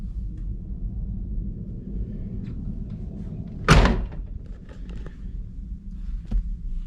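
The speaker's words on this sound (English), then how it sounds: "I don't have much room to open the door here because of this pole" The door of a 1993 Ford Mustang Fox Body is worked beside a pole in a shop, producing a single solid thunk midway through, set against a low, steady background rumble.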